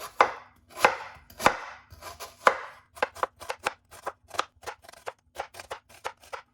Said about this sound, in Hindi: आपने प्याज को बारीक बारीक काट लेना है